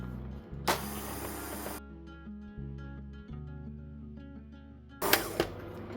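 A kitchen appliance whizs dry ingredients for a Jamaican-style fruit cake, flour with ground cinnamon and nutmeg, in two loud bursts, a long one near the start and a shorter one near the end, with quieter background between.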